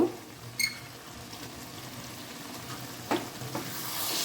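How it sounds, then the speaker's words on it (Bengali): Raw mango pieces with salt and turmeric are stirred in a pan for a sour-spicy pickle, with a soft simmering sizzle underneath and a few sharp scraping clinks of the spoon against the pan. "এবার আরেকটু নাড়াচাড়া করে দিই"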